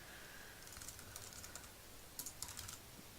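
Soft, quick keystrokes on a computer keyboard while saving an HTML file in Notepad, faint clicks in short irregular runs with a slightly louder cluster near the end, no speech.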